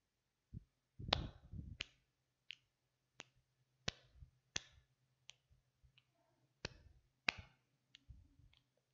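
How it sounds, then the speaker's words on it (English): Hands clap and fingers snap in a sparse series of crisp, close, isolated cracks, each separated by short silent gaps, with no talking. "First, I clapped twice. Then, I snapped twice."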